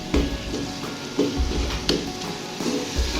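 Egg khagina frying in oil in a pan, a steady close sizzle broken by periodic louder scraping and stirring strokes roughly every second or so, with no talking.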